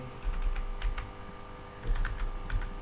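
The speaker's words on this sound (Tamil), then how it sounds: "நான் ஜஸ்ட் டைப் பண்ணிக்கிறேன் ஃபேஸ்புக்னுட்டு" A computer keyboard is typed on in quick, uneven bursts of close, crisp key clicks, with short pauses between runs, over a steady low electrical hum.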